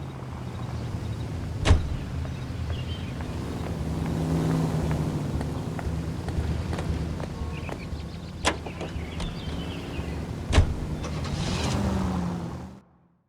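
A car in L.A. Noire drives along with a low steady engine hum that swells and fades, broken by a few sharp clicks and knocks, then cuts off at the end.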